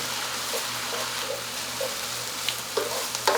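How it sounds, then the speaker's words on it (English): Jalapenos and onions sizzle and fry in a pan for a fast-food taco recipe, a steady close crackle with soft scraping and smashing strokes from a utensil as they are stirred. "Jalapenos and onions. I'm going to smash those too as I stir it in."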